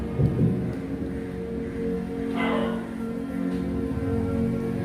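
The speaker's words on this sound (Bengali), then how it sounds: "ও এখনো মেঘ ডাকছে, বৃষ্টি হবে না, খালি গর্জাচ্ছে, বর্ষা হবে না" Low, distant thunder rumbling softly from an overcast sky with no rain, beneath a steady background hiss, with no other distinct sounds standing out.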